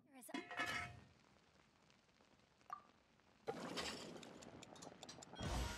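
Skewers cook in the video game Genshin Impact, a run of light metallic clinks and clattering utensil-like effects in short bursts, fairly quiet, with a brighter clatter near the end.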